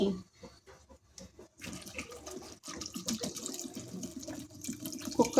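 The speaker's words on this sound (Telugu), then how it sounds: "కుక్కర్ గిన్నెలో వాటర్ వేసుకోవాలి." Water splashes and pours into a metal pressure cooker pot nearby, an irregular gurgling stream with no voices heard.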